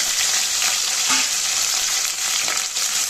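Steady, loud sizzling of garlic and onions sautéing in hot oil, with occasional stirring scrapes in the pan and no voices.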